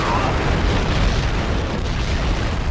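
A landmine explodes on the Deadly Pass map of a PS2 online video game, producing a dense, loud rumbling boom with sustained low roar throughout.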